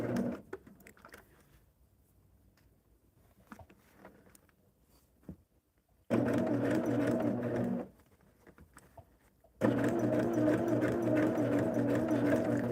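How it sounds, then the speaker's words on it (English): A sewing machine stitches a curved quilt seam for a Double Wedding Ring quilt, running in two loud, steady mechanical bursts of fast whirring separated by a pause, after a stretch of quiet fabric handling and small clicks. "You don't even realize you're sewing a curve."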